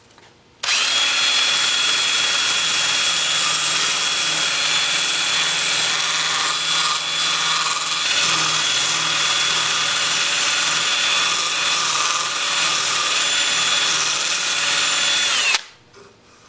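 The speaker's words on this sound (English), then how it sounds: "And then with the lathe spinning forward at about 350 RPM." A wooden disc being sanded on a wood lathe spinning at about 350 RPM, a steady, loud whirring drone with a high whine, running continuously for most of the clip before stopping abruptly.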